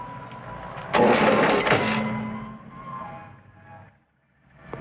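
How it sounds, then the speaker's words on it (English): A cash register opens during a holdup in an old radio drama, a sudden mechanical clatter and ring of the drawer sliding out, fairly loud, then fading over a low hum into brief silence. "The cash register."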